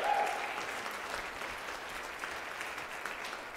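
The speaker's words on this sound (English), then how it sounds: "would y'all give them a round of applause, but you've done that very, very well" Chapel congregation applauding a gospel choir at a university chapel service, a sustained, even roar of many hands clapping at moderate distance, with no voices over it.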